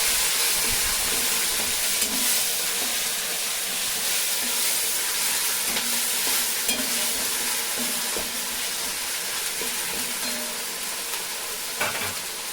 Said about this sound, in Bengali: এরপরে আমি মশলা বাটাটা দিয়ে দেবো তেলে। ভালো করে মশলাটা ভেজে নেবো, পেঁয়াজ রসুন আদাটা।